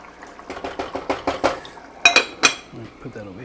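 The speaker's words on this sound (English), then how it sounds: "I'm gonna give that a little stir just to help it from sticking to the bottom" Spoon scraping and clinking against a pot of garbanzo and sausage stew, a run of quick, close knocks and scrapes followed by a few sharper metallic clinks, with no talking.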